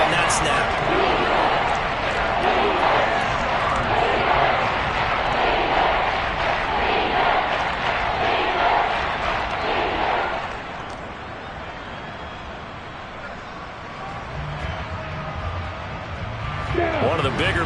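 Football stadium crowd cheering and roaring during a Jaguars vs Panthers game ahead of a big third down, loud and sustained, easing off toward the end before rising again.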